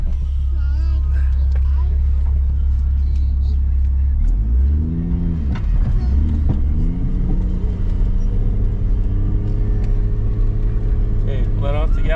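An off-road vehicle with a manual gearbox rumbles loudly and steadily, its engine pitch dropping and shifting as the gas is eased off and the clutch worked, with voices talking over it throughout.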